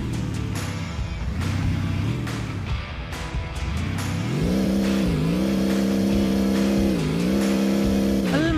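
The jeep engine in a parking video game drones steadily with repeated rising and falling revs, a synthetic motor tone that grows louder partway through, continuous and close without talk.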